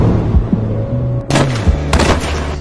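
Two loud gunshots ring out about half a second apart, sharp and close, over a low droning music bed.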